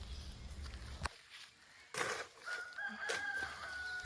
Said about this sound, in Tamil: சேவல் கூவுற சத்தம் காதுக்கு கேட்க எவ்வளோ இனிமையாக இருக்குது பாருங்கள்